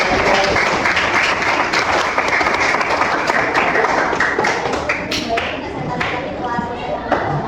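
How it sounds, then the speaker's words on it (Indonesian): An audience applauds after a classroom presentation on coding and artificial intelligence, with loud, dense, steady clapping close by that continues through the whole stretch and thins slightly near the end. "Kita beri aplaus dulu pemaparan dari"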